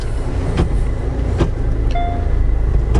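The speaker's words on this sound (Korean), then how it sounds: "일단 시동 켜면서 RPM 잘 올라가고 파킹 상태에서 유지도 잘 되고 있습니다" A 2017 Hyundai Santa Fe idling in park after starting, giving a steady low rumble close by, with a couple of faint clicks and a brief whine partway through. No one talks.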